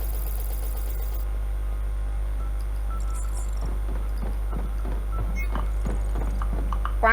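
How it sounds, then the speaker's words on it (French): Footsteps in a Five Nights at Freddy's roleplay video game, a run of soft, evenly spaced thuds over a steady low electrical hum, growing slightly clearer toward the end, with no talk. "Entendez le bruit de pas, ça me rassure pas."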